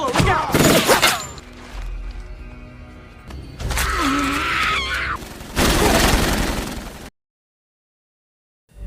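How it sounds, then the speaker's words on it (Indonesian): Heavy booming blasts and crashing debris erupt in bursts, loud and close, with distorted shouting between them before sudden silence. "terdengar ledakan di pusat kota"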